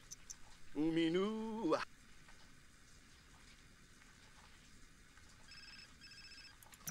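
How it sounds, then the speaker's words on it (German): A telephone rings once inside The Sims 4, a short melodic chiming burst of about a second, followed by a quiet room tone and a faint electronic tone near the end. "Telefon."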